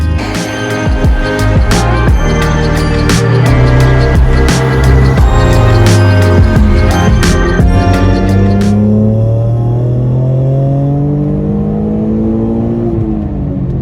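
An Alfa Romeo 147 GTA engine with 105,000 miles revs hard and loud several times in close succession, then the revs fall away and settle into a lower, steady idle.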